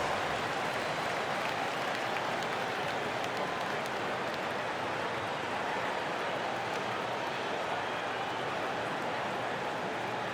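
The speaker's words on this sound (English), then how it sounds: "Give yourselves a big round of applause." A basketball crowd in NBA 2K25 applauds continuously for about ten seconds, a dense, steady wash of clapping heard from a distance.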